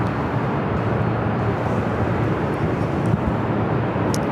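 Twenty-eight-year-old Delta Air Lines Boeing 757-200 landing at LAX, a dense steady jet roar heavy in low rumble, loud and unbroken for the few seconds heard.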